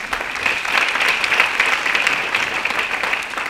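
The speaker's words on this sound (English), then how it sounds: "Let's give them a round of applause" Dense, steady applause from a city audience honoring a finance department, a continuous wash of clapping that stays fairly loud throughout.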